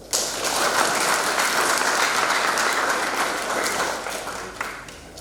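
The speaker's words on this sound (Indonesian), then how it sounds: "Silakan tepuk tangan." Guests applaud at a wedding ceremony for Nona and Geni just after the couple is declared husband and wife, a dense, steady burst of clapping from a crowd that holds strong before thinning toward the end.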